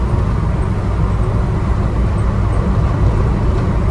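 A classic Ford Escort van driving on a road, a steady broadband engine and road roar heard from inside the cabin, constant and loud throughout with no voices.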